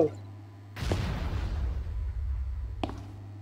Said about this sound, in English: I heard the explosion from above.